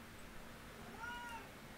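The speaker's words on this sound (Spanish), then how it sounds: "Voy a alimentar a mi gato." A house cat meows softly about a second in, a single rising-and-falling call over a faint background hum, heard alone without talk.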